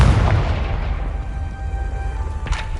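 A loud booming blast from the Confringo fire spell in the game Hogwarts Legacy, a heavy explosion with a long rumbling decay and a sharp crackling burst near the end.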